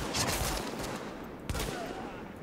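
Gunfire from a weapon in The Division, a few sharp close shots cracking out over a busy game background, with a distinct report near the middle.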